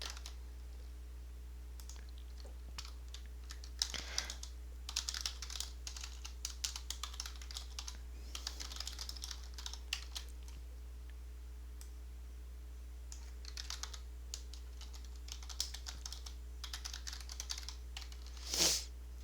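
Someone types steadily on a computer keyboard while editing web page code, with bursts of quick clicking keystrokes and short pauses over a low steady hum, close and faint.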